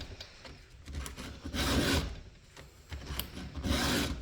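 A file rasps across a chainsaw chain clamped in a vise, giving repeated broadband scraping strokes in a steady back-and-forth rhythm, close and moderately loud, with no talking.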